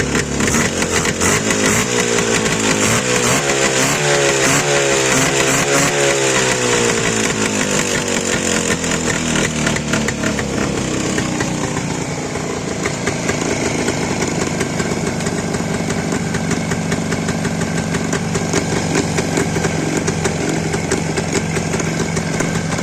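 A petrol engine offered for sale is revved hard under throttle, its buzzing pitch sweeping up and down at first, then settling into a loud, steady high-rev drone, close and with no voices.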